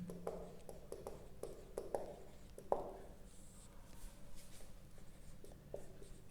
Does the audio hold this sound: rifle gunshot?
no